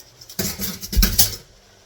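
A utensil scrapes and clatters through fried hamburger macaroni in a pan, a brief close burst of stirring and metal scraping, moderately loud and without talk.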